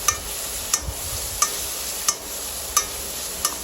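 Onion, garlic and asafoetida frying in mustard oil, giving a steady sizzle with a few soft, evenly spaced clicks of a spoon against the pan.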